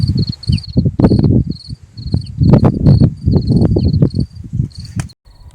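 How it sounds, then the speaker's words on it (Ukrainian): Close, repeated high cricket or grasshopper chirps in short regular bursts in a village, layered over a louder low rumbling and rustling background. "А що це таке? Цвіркуни чи коники-стрибунці співають?"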